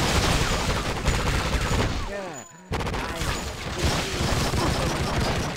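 Rapid bursts of gunfire in the video game True Crime: Streets of LA, loud and dense throughout, with a brief lull of explosion-like booms midway before the shooting resumes.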